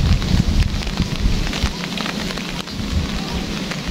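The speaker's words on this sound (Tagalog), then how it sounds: "Abutan kami dito sa taas ng ulan." Steady heavy rain pours down on the open sea around a fishing boat under a darkening sky, a dense continuous hiss with occasional low rumbles.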